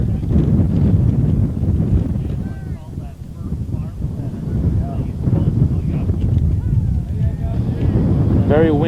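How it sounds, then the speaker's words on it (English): Strong wind buffets the microphone with a constant roaring rumble at a baseball game, while faint voices and distant crowd sounds drift underneath. "Very windy, as you can probably tell"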